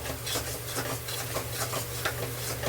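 Masala paste made from ground Kashmiri and hot red chillies being stir-fried in a pan for chicken bhuna, a steady quiet scraping and sizzling with soft rhythmic stirring strokes and no talk.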